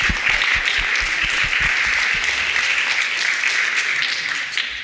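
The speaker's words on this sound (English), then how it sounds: "give yourselves a round of applause" Audience applause at a climate change community gathering, a dense steady wash of many hands clapping that holds loud and even throughout with no voices.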